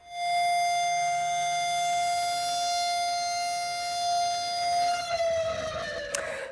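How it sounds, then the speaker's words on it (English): A civil defense siren in Israel blares in one long sustained tone, loud and steady, then wavers and drops away at the end. "sirens blared across Israel as people stood in silence"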